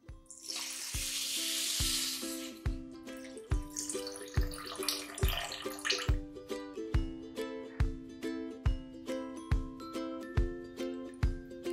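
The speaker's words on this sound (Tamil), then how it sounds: "இப்ப இந்த தேங்காய் பால் நம்ம சேர்த்துடலாம்." Coconut milk is poured into a pressure cooker holding rice: a steady liquid wash lasting about two seconds, then a second pour, set against a regular, evenly spaced ticking that continues throughout.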